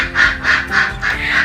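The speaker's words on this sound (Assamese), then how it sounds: "হাঁহ মুৰ্গী মাত শুনিব।" Domestic ducks quack loudly and close by at home, giving about five rapid, evenly spaced nasal quacks with no voices over them.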